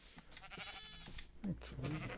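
Sheep bleating in a Minecraft-style survival game, a couple of short wavering bleats close by, quiet and alone.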